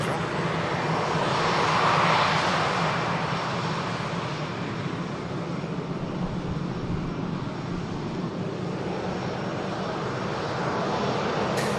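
Jet aircraft engines roar steadily at Manchester Airport as planes taxi, a broad continuous rumble and hiss at moderate distance with a faint voice underneath.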